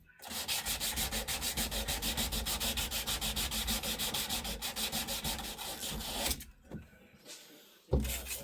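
Corroded copper pipe being scrubbed clean before a PEX press-fitting transition, giving a fast, rhythmic rasping close up that runs for about six seconds before stopping, followed by a few light knocks.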